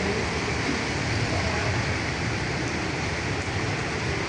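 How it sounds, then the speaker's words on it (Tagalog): Sudden heavy rain pouring down on Pugoso Street in Santa Cruz, Manila, a loud, dense and steady hiss of downpour with no breaks. "bumubuhos bigla ang ulan"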